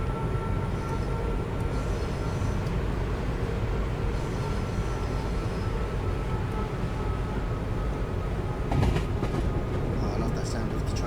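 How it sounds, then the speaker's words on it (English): Class 380 electric train from Train Sim World 4 running on the Cathcart Circle, a steady loud rolling rumble with a brief clattering burst near the end as it passes over points. "Oh, I love that sound of the train going over the points."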